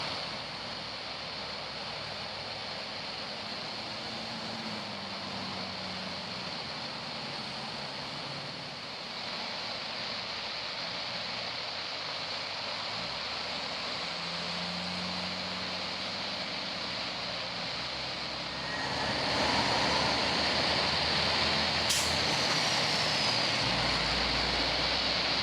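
An Airbus A380 taking off from runway 6 in calm wind makes a steady broad engine roar that swells sharply louder near the end, heard from a distance outdoors.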